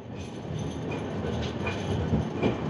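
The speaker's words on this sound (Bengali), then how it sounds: "দেখো আমাদের ট্রেন মাঝখানের লাইনে ঢুকে গেল" A Shatabdi Express running from New Jalpaiguri to Howrah rumbles steadily as it switches onto the middle track, heard from inside a Vistadome coach with continuous wheel noise and faint rhythmic clatter.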